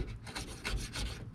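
A hand scraper rasps peeling paint off the body of a Chevy van, several short gritty strokes in quick succession, close and fairly quiet, without talk.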